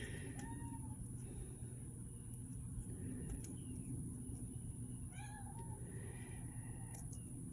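A cat meows several times, faint and somewhat distant, over a steady low rumble of background noise.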